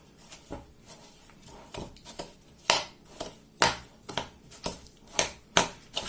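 Egg, sugar and butter mixed in a bowl for oat cookies, with a spoon knocking and scraping in a steady rhythm of close taps that grow louder.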